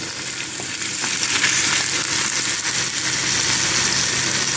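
Onion frying with a garlic base over a high flame in a pan, a continuous loud sizzle with occasional stirring scrapes, steady throughout with no talking.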